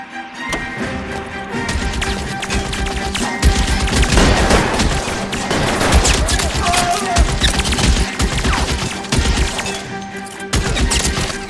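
Dense volleys of gunfire in L.A. Noire, shots cracking in rapid overlapping bursts with machine-gun rattles through most of the stretch, loud and close, with a crash now and then.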